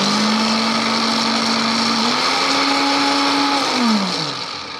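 A Silvercrest SFPM600 A1 kitchen blender whirs loudly and steadily, its motor pitch rising slightly midway, then winding down at the end.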